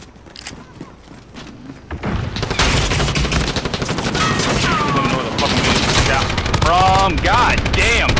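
Gunfire in the video game Modern Warfare during a team deathmatch, dense continuous automatic fire and loud bursts that start after a quieter opening and keep going to the end, with in-game effects layered over it.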